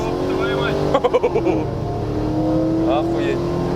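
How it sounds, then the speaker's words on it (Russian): A Toyota Mark II swapped with a 1UZ-FE V8 accelerates on the road, a loud sustained engine tone climbing through the revs with a brief stuttering gear change, heard from inside the car while people talk over it. "Вроде обычный Марк, ничего особенного, но V8 это вещи."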